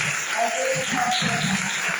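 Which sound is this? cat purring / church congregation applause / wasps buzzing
church congregation applause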